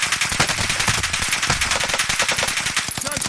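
Rapid automatic gunfire from a tactical shooter video game, a dense stream of loud close shots with bursts and echoing cracks filling the whole stretch with no pauses.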